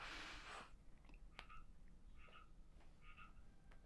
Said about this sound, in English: There's a frog outside.